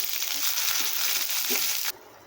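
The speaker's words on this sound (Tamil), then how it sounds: "அதே கடாயில் கொஞ்சமாக எண்ணெய் ஊற்றி கடுகு, கருவேப்பிலை" Mustard seeds and curry leaves fry in a little oil in a kadai for onion chutney, a loud close sizzling hiss with faint popping that cuts off sharply near the end.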